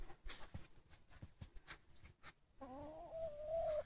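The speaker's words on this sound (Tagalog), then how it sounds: "Ayan yung mga manok," Chickens kept behind a house in Binangonan, Rizal cluck faintly amid scattered rustling, followed by a clearer, drawn-out call from one bird near the end.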